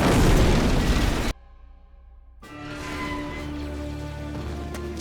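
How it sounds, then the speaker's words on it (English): An animated sci-fi explosion on Geonosis opens with a loud, dense blast, drops into a brief near-silence, then swells into a lingering rumble as sharp black shards and debris rain down. "black shards that just spike out when the explosion happens, and then let the debris kind of fall and rain down"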